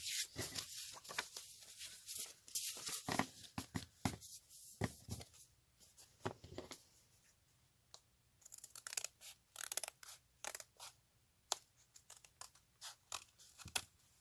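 Scissors snip through small pieces of paper for a junk journal, giving quiet, crisp, irregular cuts and crunches close by, with short pauses between them.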